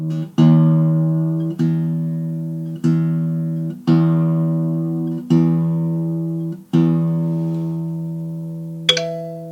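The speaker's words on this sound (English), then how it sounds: "Once I hear the ding, it means that my note is in tune." A low guitar string is plucked about seven times while tuning, each note ringing out and fading, then a short bright electronic ding from a guitar tuner signals it is in tune.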